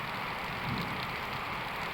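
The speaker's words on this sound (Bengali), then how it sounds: "এখন পুরো দমে মুষলধারে বৃষ্টি হচ্ছে" Heavy monsoon downpour on a stormy morning in Kashipur, Dinajpur, a steady, dense roar of rain pounding surfaces without pause, loud and continuous with no voices.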